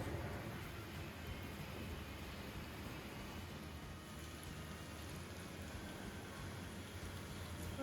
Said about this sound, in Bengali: আজকে আর বৃষ্টি থামতেছে না গো